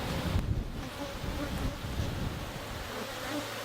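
Honeybees swarm and buzz around an opened hive during requeening, a steady dense drone close to the microphone with some wind rumble and no talking.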